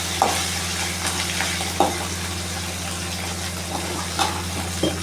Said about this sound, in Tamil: கிள்ளி வச்சுருந்த வரமிளகாயை போட்டுட்டு போட்டு எல்லாம் கொஞ்சம் நல்லா வதங்கி வரட்டும்